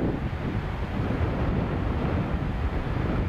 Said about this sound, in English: Bit of wind blowing us around